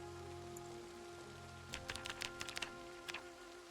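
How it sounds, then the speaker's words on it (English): Rain in the zombie survival game Project Zomboid makes a steady soft patter, with a cluster of sharper drops and taps landing near the end, all faint and without talk. "In the rain."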